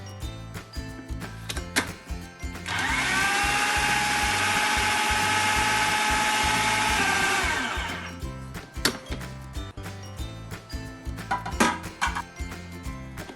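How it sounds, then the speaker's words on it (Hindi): An electric chopper grinds a shami kebab mixture for burgers, a steady loud whirring run of about five seconds, with clinks and handling clatter before and after. "इसी तरह से मैं ये सारा मिक्सचर जो है ना वो चॉपर में डालकर रेडी कर लेती हूँ"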